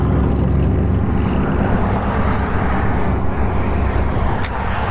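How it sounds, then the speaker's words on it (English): Constant road traffic roars beside a bass-fishing spot, a loud, unbroken broadband rumble of passing vehicles with no gaps, close and dominant throughout. "Sorry about all the traffic noise."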